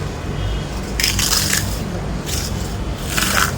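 Crispy homemade ragi (nachni) papad snapping apart by hand, a few sharp dry crackling crunches in short bursts over low background hum, close and fairly loud.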